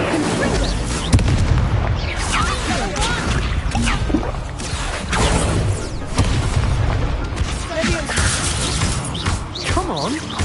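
The Incendio fire spell is cast repeatedly during a Hogwarts Legacy duel, producing loud, close whooshing bursts and heavy impacts amid constant combat noise.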